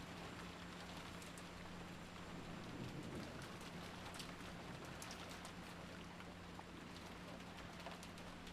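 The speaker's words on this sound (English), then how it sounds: "The only voice that called after them was the sound of the rain." Steady rain falling and pattering on a surface, a faint, continuous wash of drops with a low hum beneath, no voices over it.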